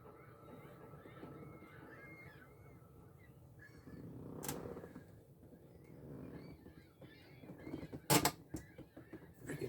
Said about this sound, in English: Freaking chair's loud.